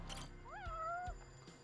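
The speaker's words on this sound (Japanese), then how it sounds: "ここのとこに猫がいるぞ。" A cat meowing in the video game Judgment (Judge Eyes), one clear rising-then-falling meow in the middle, with a few soft thumps around it and no talking.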